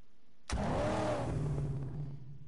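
A car engine in the Mad Max video game fires up abruptly and revs hard, a loud, close, sustained roar that slowly settles to a steadier drone.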